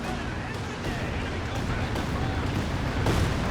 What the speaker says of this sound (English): Land mattress coming down.